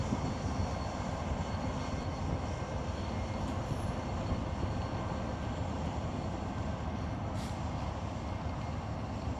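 A train rumbles past close by, a steady broadband roar with low-end clatter that holds evenly throughout, with no talking.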